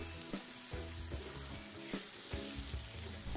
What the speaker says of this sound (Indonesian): Kembali kita aduk.